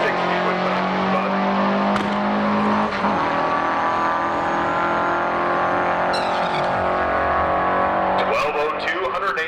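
A stage 2 Audi RS3 races a 1000 whp Toyota Supra down a drag strip, engines droning loud and steady with revs rising and falling, a tire chirp near the end, and an announcer talking over it throughout.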